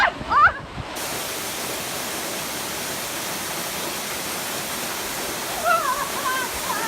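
Linda Falls pours out a steady, full rush of falling water that stays even and close from start to finish, with a brief voice near the beginning and another near the end.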